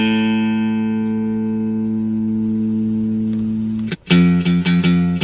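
Electric guitar plays a variation on a song's break: a long sustained, twangy chord rings out, then a quick cut into a fresh sharp attack with more sustained notes.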